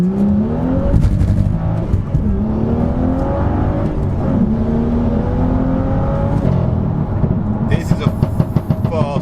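A tuned BMW M2 Competition accelerates hard on an open 70 mph road, its engine note climbing steadily through several gear changes, loud and close throughout, with a few sharp pops near the end.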